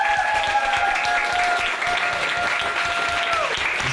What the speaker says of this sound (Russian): громкими аплодисментами поздравили нашего дорогого и любимого пастора Андрея с днем рождения